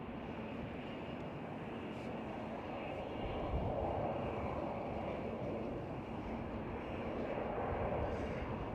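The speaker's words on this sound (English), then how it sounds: "There goes KLM City Hopper E190." A KLM Cityhopper Embraer E190 jet passes at Amsterdam Schiphol airport, a faint, distant, broad roar that swells slightly midway and holds steady.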